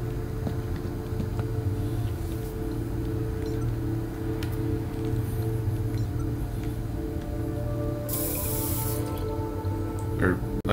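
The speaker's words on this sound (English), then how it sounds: "Finn turns the shower on, right?" A shower running in the video game Beyond a Steel Sky, a steady hiss of spraying water with faint dripping, continuous and fairly close, with a brief brighter burst of spray near the end.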